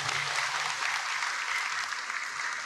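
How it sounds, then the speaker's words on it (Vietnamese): A crowd applauds at a Vietnamese Buddhist sermon, a steady dense patter of many hands clapping together from start to finish, with a faint low voice briefly underneath at the start. "xin quý vị cho một tràng vỗ tay đi"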